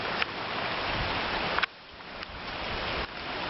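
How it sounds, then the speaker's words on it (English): Floodwater pours like a waterfall through a garden after heavy October flooding, a steady broadband rush heard close up with a few abrupt cuts in level. "There's definitely waterfalls coming through here."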